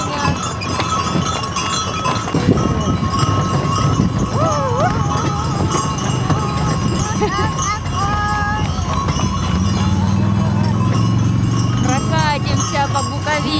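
A white horse pulling a carriage ride in Bukovel, hooves clip-clopping steadily at close range over constant ambient noise, with people talking intermittently and some tonal sounds in the background.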